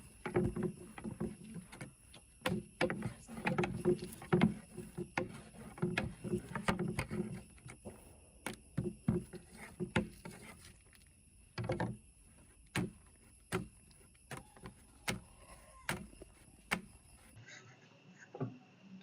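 Paratha dough being tossed and stretched, repeated sharp slaps of dough against a work surface in an uneven rhythm, close and distinct against a quiet kitchen with a steady faint hum, with no voices.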